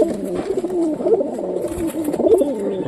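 Domestic pigeons kept in a coop coo steadily and close by, a low, throaty, rolling murmur that swells and fades over a few seconds with no voices.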